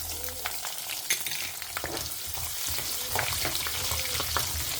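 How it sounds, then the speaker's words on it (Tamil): Hill garlic fries in a pan for a spicy brinjal kuzhambu, giving a continuous close sizzle with scattered crackles and occasional scraping stirs. "இப்போ பூண்டு சேர்த்துக்கிறேன்"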